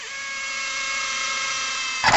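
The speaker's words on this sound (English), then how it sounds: "So we're going to drill 4 holes." A steady high-pitched power drill whine holds for about two seconds, then a brief harsh grinding burst as the bit bites through a metal coffee can.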